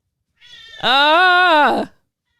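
A cat lets out one loud, drawn-out meow right beside the microphone, lasting about a second, with nothing else heard.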